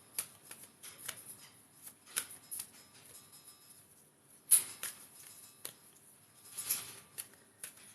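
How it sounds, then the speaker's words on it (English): A deck of angel cards is shuffled by hand, giving soft papery riffles and patters in short, uneven bursts, close and fairly quiet, with no voices. "Let's give these angel cards a good old shuffle."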